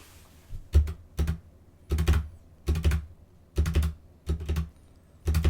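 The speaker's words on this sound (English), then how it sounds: "Just furiously smashing the keyboard to try to pause" A computer keyboard being smashed rapidly during gameplay in an indie RPG, heard as repeated close, loud bursts of clattering keystrokes separated by short pauses, with no talking.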